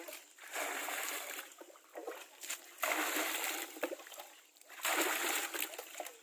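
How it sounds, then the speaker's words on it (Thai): Water is scooped and poured into a container before caustic soda is added for stripping swingarm paint, with repeated close splashes and sloshing in uneven bursts. "ก็ตักน้ำใส่เข้าไปครับ"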